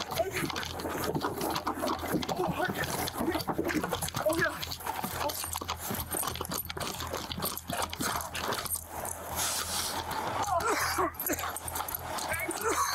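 A dog barking and whimpering amid a chaotic scene with police, short yips and whines heard under frequent shouting voices.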